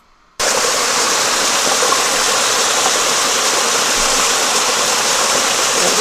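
A shower switches on abruptly and water pours in a loud, steady, broadband rush that holds constant for several seconds, close by, with no talking over it.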